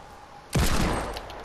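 A sudden, sharp gunshot bursts out in the video game Fortnite, then rings and decays over about a second.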